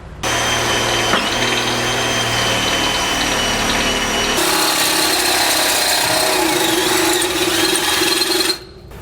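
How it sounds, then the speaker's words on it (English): A power drill bores a 1/2 inch hole through the steel frame of a 2004 Workhorse W chassis, running loud and continuous for about eight seconds with a change in pitch midway as the bit bites deeper, no talk. "Now we're going to want to drill it out to at least a 1/2 inch because we need to pass a 1/2 inch bolt through there."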